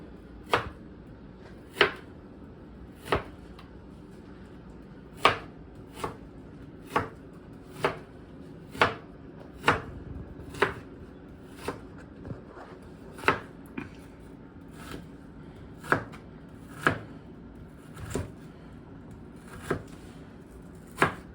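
A knife chops a large purple onion on a board: about seventeen crisp, evenly spaced knocks roughly one per second, close and distinct over a quiet room.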